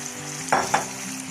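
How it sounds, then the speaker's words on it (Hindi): Soft, steady sizzle of blended sarson ka saag (mustard greens) frying in a pan, with two quick scraping strokes of a spoon stirring partway through; quiet and close. "अब मैं इसको इसमें शामिल करके अच्छी तरह भून लूँगी।"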